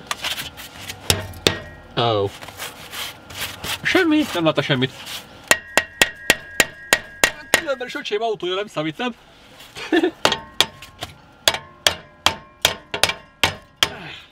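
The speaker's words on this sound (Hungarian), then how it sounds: "és bele kéne kalapálnom" Sharp metallic hammer blows strike a car's exhaust pipe on a petrol Volvo, first in scattered hits, then in a steady run of ringing clangs, with someone talking between and over them.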